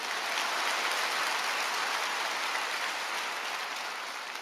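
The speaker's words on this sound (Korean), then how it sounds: "우리 여자들 위해서 박수 좀 쳐주세요." Church congregation applauding during a Friday night service at Yoido Full Gospel Church, a dense, uniform wash of clapping heard from a distance, steady and rain-like throughout.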